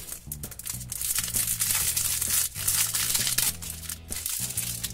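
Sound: opening sticker card packaging

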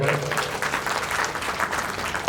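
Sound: audience applause

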